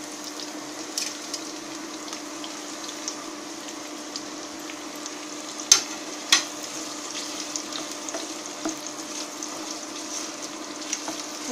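Chopped onions sautéing in a pan for mushroom matar do pyaza, a soft steady sizzle under a faint hum, with two brief louder clinks of a utensil partway through.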